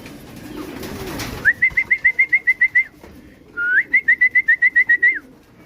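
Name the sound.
small birds calling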